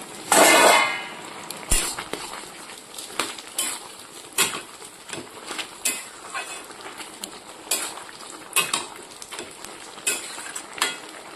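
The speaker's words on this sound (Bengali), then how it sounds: "এবার আবার বেগুন ভাজছি।" Eggplant slices frying in a pan give a soft, continuous sizzle, broken by a loud burst at the start and scattered metallic clinks and scrapes of a utensil against the pan.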